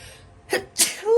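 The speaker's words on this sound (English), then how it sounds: "Hold on, I gotta sneeze." A single close sneeze, a short sharp intake followed by an explosive burst, with quiet before it and a faint voice starting right after.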